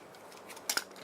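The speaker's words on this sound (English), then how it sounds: "Puncture the seal." Two quick, faint clicking snaps, close together, as the seal of a caulk tube is punctured in a quiet room.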